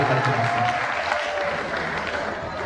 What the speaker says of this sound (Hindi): पटेल मंडप में तालियों की गूंज में उन्हें आवाज़ दें